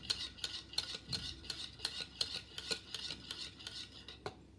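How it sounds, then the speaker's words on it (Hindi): A spoon or whisk beats sugar into yogurt for grape raita in a bowl, giving quiet, rhythmic scraping and clinking strokes in steady succession with no talking. "अच्छी तरह से फेंट लेंगे"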